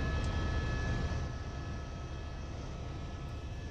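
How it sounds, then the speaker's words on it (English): Steady broadband rotor and engine roar from inside a helicopter in flight, constant and loud throughout with a low rumbling drone and a faint whine. "it's a helicopter ride, so you're gonna hear a helicopter"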